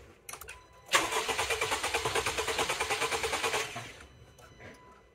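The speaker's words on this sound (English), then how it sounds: "give it a couple revolution cranks there and see how the compression turns out" Car engine cranking over on the starter during a compression test, a steady rhythmic run of about twenty even chugs lasting roughly three seconds, loud and close, then stopping.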